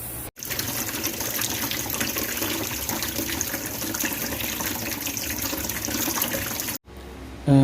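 Tap water gushing steadily over a pressure cooker to cool it after cooking beef bulalo, a loud, close, continuous splashing rush that cuts out briefly twice.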